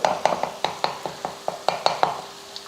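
A utensil taps and scrapes rhythmically in a pan, about a dozen quick strokes over light sizzling, as three eggs with salt are mixed into beetroot.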